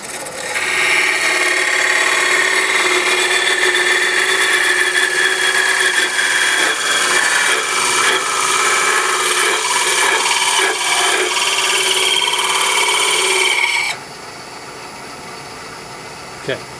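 Parting tool cutting into spinning ambrosia maple on a wood lathe, a loud continuous scraping whine lasting about fourteen seconds before stopping abruptly, leaving a quieter motor hum.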